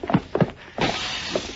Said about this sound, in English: They crashed out through the front window, Mr. Dillon.